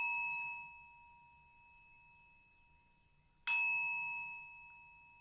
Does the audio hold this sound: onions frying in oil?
no